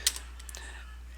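A few faint, isolated keystrokes on a computer keyboard while a Vim command is typed, soft clicks spaced unevenly over a quiet low hum with no voices.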